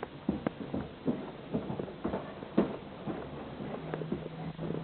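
Hooves clip-clop in an uneven walking rhythm, a steady series of soft knocks at moderate distance with faint background noise.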